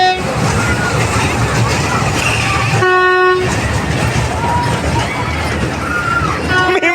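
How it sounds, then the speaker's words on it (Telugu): A mini train ride at an exhibition draws near, its rumble steady beneath crowd noise and talking, with one clear horn toot partway through. "నీ వెనక ట్రైన్ వస్తుంది."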